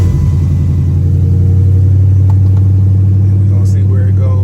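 A cammed Ford Crown Victoria V8 cranks and catches, settling into a loud, lumpy, choppy idle with a heavy low rumble and rough pulsing rhythm, recorded close to the car.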